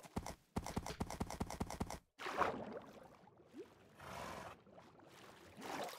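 Donkeys in the Minecraft video game walk with a rapid run of hollow clip-clop hoofsteps, followed by softer shuffling and bursts of noisy game sound, with no talk.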